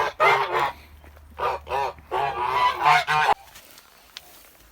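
A white gander honks loudly several times in quick bursts close by on a farmstead, then falls quiet.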